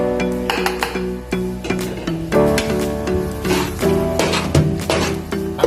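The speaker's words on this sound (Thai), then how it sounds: "คลุกเข้าให้เข้ากันเดี๋ยวมาชิมรสกันอีกทีนะครับ" Rice being tossed and stirred with shrimp paste and cut long beans in a pan, steady scraping and clinking of a utensil against the pan running throughout, with a tonal musical backdrop underneath.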